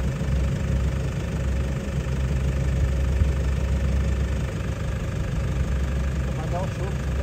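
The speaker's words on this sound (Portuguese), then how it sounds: "Vai, ele tá acelerando." Vehicle engine revving as it struggles along a slippery dirt road, a steady rough low drone running throughout, with people talking over it.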